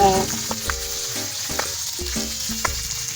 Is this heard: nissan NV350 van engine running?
no